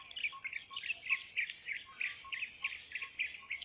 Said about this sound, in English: so a bird, it's beautiful